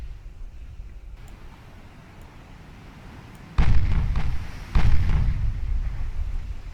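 8-inch naval guns fire in the Ultimate Admiral Dreadnoughts naval battle game as two heavy booming blasts a second apart, each with a rumbling tail, following a quieter low ambient stretch.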